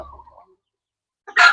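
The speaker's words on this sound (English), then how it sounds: "we gonna catch the chicken" A rooster being caught on a farm in the Philippines lets out one short, loud, close squawking cluck right at the end, after a faint murmur and near silence.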